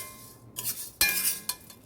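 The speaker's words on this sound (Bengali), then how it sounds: "দেখো শুকনো কড়াই নেড়ে নিচ্ছি একটুখানি।" Urad dal stirred in a dry wok with a metal utensil, heard as a few short scraping, clinking bursts with quiet pauses between them and no talking.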